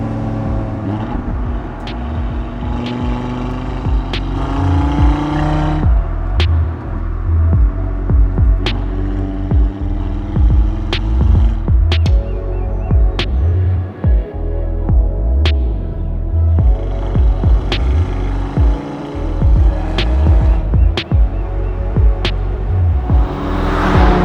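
A car cruises a damp back road through dense bushland on the Old Pacific Highway near Sydney, held in a lower gear; its close, steady engine drone throbs and swells gently under light acceleration throughout, with no talking.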